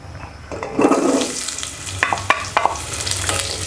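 Potatoes hitting hot oil in a pan, a loud burst of sizzling followed by sharp scraping and stirring knocks over a continuous close fry.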